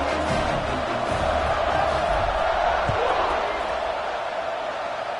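Crowd at an American football game during a kickoff, a steady loud roar of cheering fans filling the whole stretch, with commentary voices over it.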